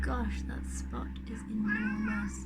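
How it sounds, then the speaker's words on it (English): A cat meows several times at close range, mixed in with a person talking over it. "Oh, that's my cat. I don't know if you can hear my cat"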